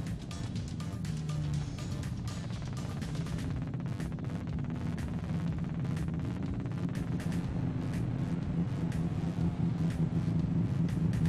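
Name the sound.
drag race car doing a tire burnout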